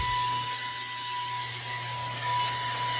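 A Dollar Tree vacuum blower runs at its higher speed, a steady whining motor drone with a constant hum, close and continuous without breaks.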